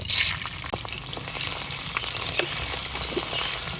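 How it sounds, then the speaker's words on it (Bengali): Shrimp and green chilies fry in oil in a wok over a clay village stove, giving a steady, close hiss and crackle with a louder sizzle burst at the start and a few scattered pops. "কড়াইতে তেল দিয়ে দিলাম, চিংড়ি মাছ আর কাঁচামরিচ দিয়ে দিলাম।"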